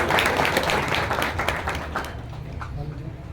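Audience applause at a traders' meeting at the Deodar panchayat, loud clapping at first that gradually thins and fades, with a voice speaking over it.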